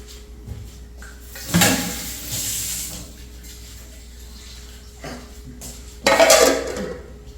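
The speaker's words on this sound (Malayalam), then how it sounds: "നമുക്ക് മൂടി വെക്കാം" A metal lid is set down on a cooking pot of pineapple pachadi, giving a sharp clatter followed by a second clink a few seconds later, close and fairly loud against a quiet kitchen.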